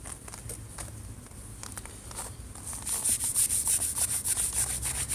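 An SOS pad scuffs flaking paint on a classic VW dual port intake, giving soft rubbing strokes that build into a louder, rhythmic scrubbing close up, with no voices.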